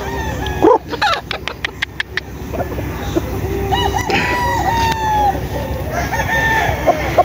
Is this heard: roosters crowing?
yes